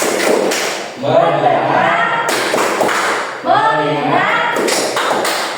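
A class performing a 'tepuk fokus' routine, with firm rhythmic claps in short patterned bursts while a voice chants along with them.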